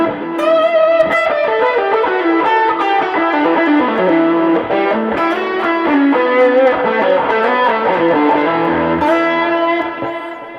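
An electric guitar plays a lead line with sustained, ringing notes and a spacious reverb tail, loud and alone without any talking.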